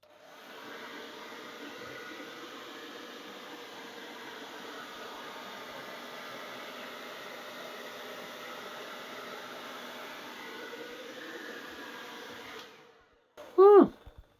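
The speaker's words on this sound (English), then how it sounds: "Crazy hairdryer." A hair dryer on its lowest setting blows over resin tulip work, a steady close whooshing drone lasting over twelve seconds before it shuts off, followed by a brief voice.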